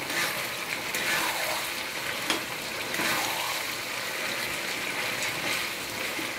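Mutton braising in a pan gives off a continuous, moderately faint sizzle, with soft crackles and small bubbling pops, and no voices over it.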